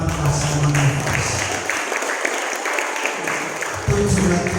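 Audience applauding a graduating class at a school graduation ceremony, a sustained crowd clapping that stays fairly loud, with a faint tone droning at the start and end beneath the clapping.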